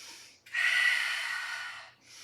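A single deep belly breath, drawn in through the nose as a long, close, airy inhale lasting over a second between quieter breathing, with no talk.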